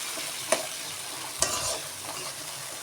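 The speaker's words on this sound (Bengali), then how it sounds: "এখন আমি ভালো করে কষিয়ে নিচ্ছি প্রথমে লবণ ছাড়া" Salted hilsa fish fries in a pan and is stirred; two sharp scraping strokes of the spatula stand out over a soft, steady sizzle, close and fairly quiet, with no voices.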